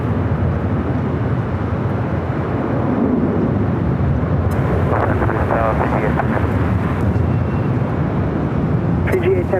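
A Flair Airlines Boeing 737 MAX 8 jet at Los Angeles International Airport gives a loud, steady broadband roar throughout, with a rising engine whine partway through and people talking over it.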